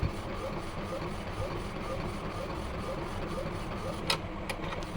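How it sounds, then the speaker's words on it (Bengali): A PVC card printer printing a card gives a steady mechanical whir with a faint regular ticking, then a couple of sharp clicks near the end, under a low background hum. "এবার আমার কিন্তু প্রিন্ট হতে শুরু করবে।"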